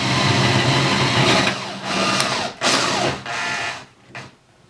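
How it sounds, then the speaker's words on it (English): A drill with a wood bit bores a hole through a corner for running wires, giving a close, loud whirring grind in several bursts separated by short pauses, fading out at the end. "I'll be using a special drill bit for wood to make our penetration."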